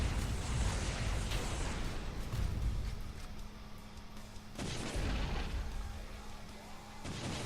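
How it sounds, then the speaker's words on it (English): A heavy explosion from a destroyed Overseer unleashing an EMP blast in a real-time strategy match, a dense roaring burst with low rumble that sustains, then another booming hit follows under the game's mix. "unfortunately his own army gets EMP'd from the explosion"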